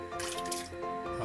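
Water, about two cups, poured into a pot for cooking Maggi vegetable noodles, a close trickling splash with drippy liquid movement through a short moment, no talking.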